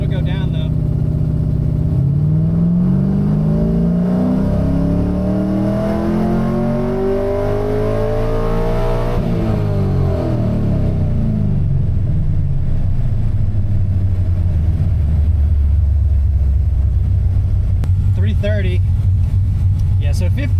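Revving of an LS V8 swapped into a Mazda RX-7, the loud engine note climbing under throttle then falling back toward a steady low idle, with people talking over it near the end.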